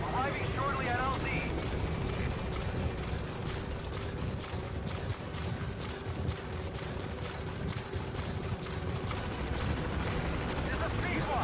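Helicopter from the game Metal Gear Solid V arriving at a landing zone, a loud steady rotor roar and whine throughout, with speech over it.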